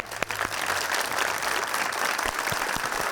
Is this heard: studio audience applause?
yes